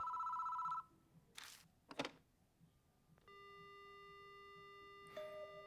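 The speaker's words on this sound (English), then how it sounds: "The phone begins to ring." A telephone in the video game Deathmark rings in electronic bursts, a short buzzing tone followed by a steady sustained ring, with brief clicks and thumps in between.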